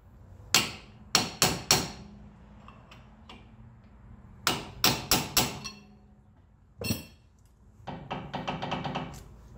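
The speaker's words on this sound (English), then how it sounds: "You see the tone of the actual shim, me hitting it, you'll hear a different tone" A shim is hammered into a 2018-2020 Ford F-150 limited-slip differential: sharp metallic strikes land close and loud in quick clusters of three or four, separated by short pauses, with a faster run of lighter taps at the end.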